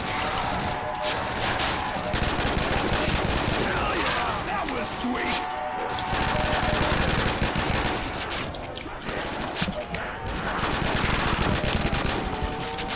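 Rapid, dense gunfire fills a Custom Zombies video game as players shoot at zombies, with bursts running almost continuously and loud throughout, barely pausing.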